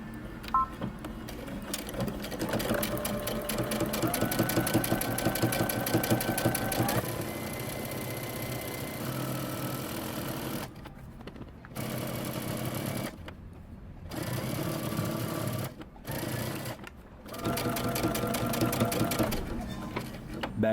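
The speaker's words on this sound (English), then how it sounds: "we're going to stitch close to the edge all the way down" A sewing machine runs close to the edge down a shirt front in long steady bursts of fast mechanical whirring, stopping briefly several times, with a voice speaking over the stitching.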